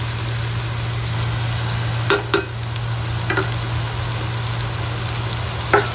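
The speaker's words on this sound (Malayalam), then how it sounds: "എന്നിട്ട് ഇനി 2 നല്ലോണം ബ്രൗൺ കളറാവുന്നത് വരെ വഴറ്റാം" Shallots and onions sizzle steadily in a pan while cooking for a Palakkad-style chicken biryani. A few clear spoon scrapes and clicks cut through the sizzle, and a constant low hum sits underneath.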